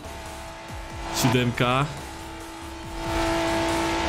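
Lamborghini Aventador racing in Forza Horizon 4 drones at steady engine pitch, then revs up with rising gear tones after a short spoken word and a tire squeal.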